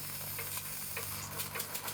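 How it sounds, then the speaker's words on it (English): Soft, continuous hiss of steam escaping from a scratch-built copper steam engine as it is first brought up to pressure, faint and steady with a low hum beneath. "we got steam up. I can hear some hissing."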